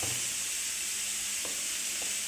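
Tomato and beetroot sauté in a hot pan, giving a steady loud sizzle and hiss with a few faint stirring taps near the end.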